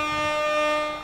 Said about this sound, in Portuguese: Tamo buzinado, irmão.